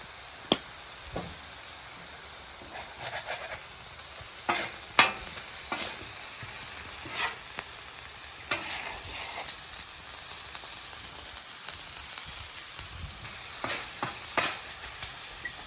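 Chopped beef sizzles and fries in its own beef fat while being stirred and scraped on a hot cooktop for a chopped cheese sandwich. Steady close sizzle with scattered scrape and tap accents, and no talk.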